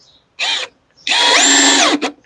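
A Ryobi cordless drill runs at its fast speed setting in two bursts, a short whir followed by a longer, loud high-pitched whine that rises and then winds down, close up with no talking.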